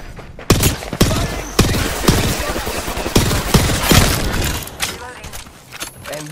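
Rapid video game gunfire in bursts of sharp cracks and booms, dense and loud at close range, with a voice talking over the shooting.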